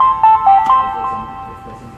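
A ZKTeco M2-LR access device plays a short restart melody of a few clear electronic beeps stepping in pitch, loud and close, then fades into quiet room noise.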